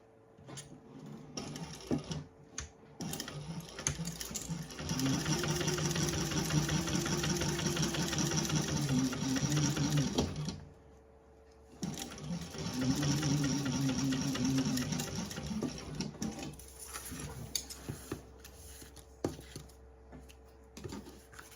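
A sewing machine stitches a seam on a fabric candy bag in two steady whirring runs, each several seconds long, split by a short pause. The machine sounds close and fairly quiet, and nobody talks.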